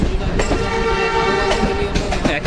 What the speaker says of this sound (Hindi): शादरा बाग पहुँचते ही हमें इसी ब्रांच लाइन की एक और ट्रेन मिल चुकी है जो कि है नारोवाल ब्रांच लाइन की